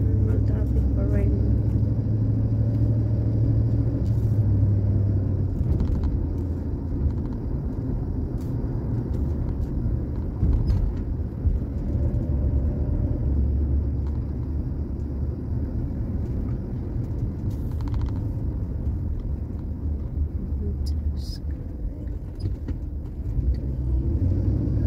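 Steady road traffic rumbling from inside a car on a morning commute, a continuous low engine and tyre drone that stays loud throughout, with vehicles passing and a voice talking at times over the noise.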